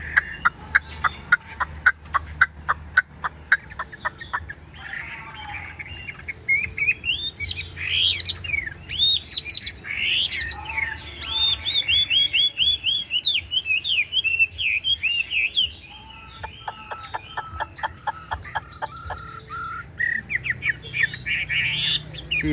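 A tame caged Chinese hwamei songbird sings loudly and close, rapid repeated notes alternating with varied whistled phrases and trills, continuing across the whole stretch with brief pauses.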